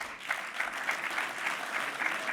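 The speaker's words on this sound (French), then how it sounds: "Je crois qu'on peut déjà les applaudir." Faint, distant applause from an awards ceremony audience for breakdance athletes, a short stretch of steady clapping heard from afar.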